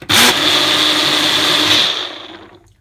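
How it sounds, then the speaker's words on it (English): A kitchen blender whirs loudly and steadily while mixing homemade Irish cream liqueur with coffee powder, starting abruptly and winding down to a stop near the end, with no talking. "Just enough to blend it all thoroughly"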